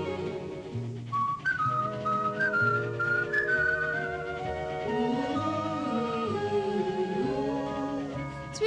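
A man whistles a lilting, wandering melody close by, the tune rising and falling steadily over a soft background accompaniment.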